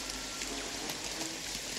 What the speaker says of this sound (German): Ich habe jetzt mitgekriegt, dass der Regen dolle, dolle laut ist.